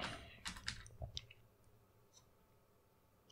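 A few quick, faint keystrokes tap on a computer keyboard while searching for NitroShare in a software manager, a short cluster of clicks followed by quiet.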